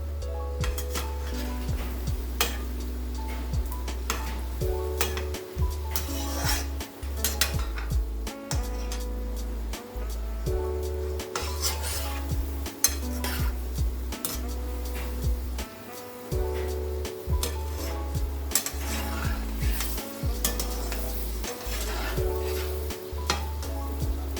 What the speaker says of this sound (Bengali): আঁচটা কমিয়ে দিয়ে ভালো করে ভেজে নেব, যাতে ভেতরটা ভালো করে ভাজা হয়ে যায়।